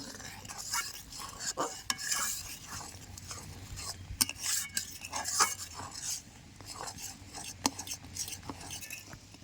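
A spoon stirs bael fruit pulp into milk for kheer in a pot, a continuous close scraping and swishing with frequent metallic clinks against the pot, steady and fairly loud throughout without any talk.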